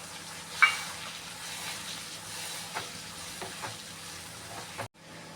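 Vegetables and tomato frying in a pan for masala upma give a steady low sizzle, with a few soft stirring clinks and scrapes, before the sound cuts out abruptly near the end.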